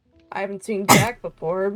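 A single short sneeze bursts out in the middle of a man's casual conversation, with talking before and after it.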